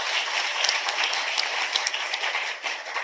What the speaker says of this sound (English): A huge applause for Dr. Singh.